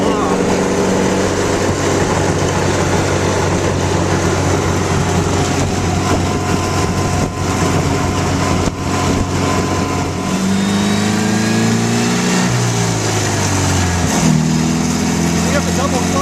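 A 1932 MG J2 sports car driving in top gear, its engine giving a loud steady drone with rising and falling tones near the end as the car speeds along, while people talk over it.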